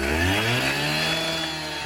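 Rotary saw engine just after starting, a loud, close, steady two-stroke drone settling toward idle with a slight downward pitch drift.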